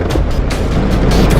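Heavy rain drums steadily on a car roof during a flooding downpour, making a loud, dense, unbroken roar close by.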